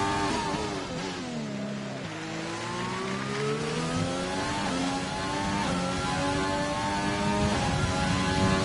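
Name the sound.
Formula 1 car engine on track at Baku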